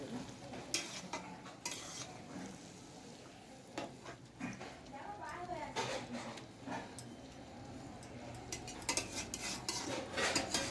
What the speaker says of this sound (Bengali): এটাকে আমি নাড়াচাড়া করে চাপা দিই